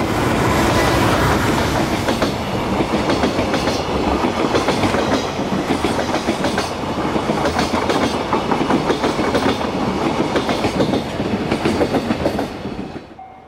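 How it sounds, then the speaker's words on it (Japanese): A long freight train hauled by a Red Thunder locomotive rumbles past close by near Shin-Osaka, wheels clattering rhythmically over the rails throughout before the noise fades away at the end. "貨物が来ました。 レッドサンダーですね。"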